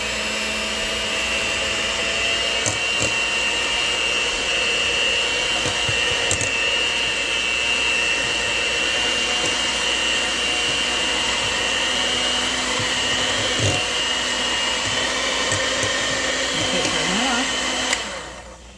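An electric mixer running on medium speed, blending room-temperature butter for pizzelle dough, gives a loud, steady whirring drone that holds unbroken for the whole stretch, with only faint clinks and no voices.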